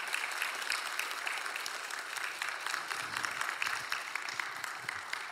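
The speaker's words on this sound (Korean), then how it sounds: "우리 윤누리 전도사님 나오실 때 우리 큰 박수로 환영해 주셨으면 좋겠습니다" A church congregation gives a steady, dense round of applause to welcome a new junior preacher to the front, filling the room evenly for several seconds at a moderate level.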